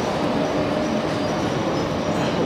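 A passenger train rumbling out of a railway station near Venice, Italy, a loud, continuous rolling roar with a dense rattle of wheels, heard from close by on the platform.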